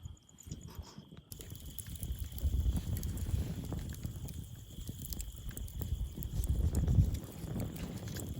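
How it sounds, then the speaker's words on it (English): Wind gusting at a riverside kayak campsite on the Colorado River, a steady rushing roar with buffeting on the microphone, continuous and fairly loud throughout. "This whole wind thing is not helping me do anything well."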